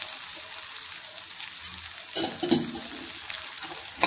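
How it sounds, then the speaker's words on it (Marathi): Sago pearls and peanuts sauté in a pan for sabudana khichdi, giving a faint, steady sizzle with a few soft stirring scrapes near the end, heard alone without talk. "तर छान असं हे परतून घ्यायचं आहे."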